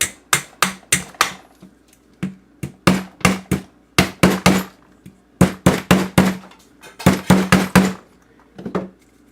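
A Feit Electric 22W LED bulb is smacked repeatedly during a teardown, producing sharp, loud knocks close by that come in irregular bursts of two to four hits separated by short pauses, with no talking.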